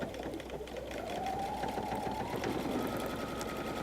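A sewing machine back stitches along a fold in a messenger bag, its motor running in one steady, close whir throughout.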